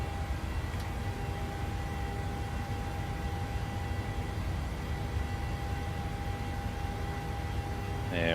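A Boeing 737 BBJ climbs after takeoff in a flight simulator, its cabin engine drone a steady broadband rumble with a faint sustained whine, constant throughout, ending with a brief electronic chime.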